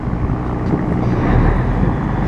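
A ferry boat docking, heard as a loud, steady low engine rumble mixed with wind buffeting the microphone, with no talk.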